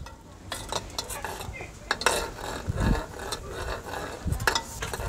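A spoon stirs Belizean hudut fish stew in a cooking pot, making repeated scraping and clinking strokes over a soft background sizzle, close and fairly busy, with no talk.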